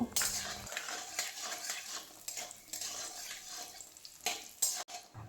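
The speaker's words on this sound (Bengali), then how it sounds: "তেল গরম হলে ছোট বাটির এক বাটি বড়ি তেলের মধ্যে দিয়ে ভেজে নেব" Lentil dumplings (bori) frying in hot mustard oil, a soft sizzle mixed with stirring and the clink of a utensil against the pan, close and fairly quiet, with no talking.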